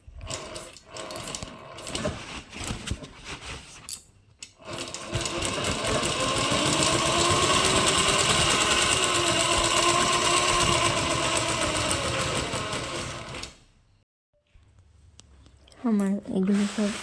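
A household sewing machine stitches a handmade bag, its motor whirring in a steady continuous run for several seconds after some short bursts and handling noises, with a brief pause before it starts again.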